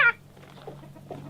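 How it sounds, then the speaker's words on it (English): A baby chick gives one short, sharp peep near the start, followed by a quiet stretch with a faint low hum and a few soft rustles. "We'll have to try and save those chickens."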